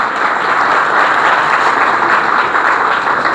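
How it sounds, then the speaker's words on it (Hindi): Church congregation welcomes a newly baptized child with loud, steady applause from many hands, a thick unbroken clatter lasting a few seconds. "तालियां बजा के इसे वेलकम करते हैं"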